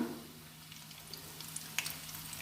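Meat rolls frying in a pan of oil give off a soft, steady sizzling hiss with scattered small crackles and pops, faint and close, with no voices.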